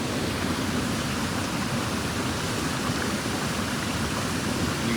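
Water pours steadily down a 25-foot waterfall in Trece Martires City, a dense, continuous rushing roar that stays constant and close throughout with no speech over it.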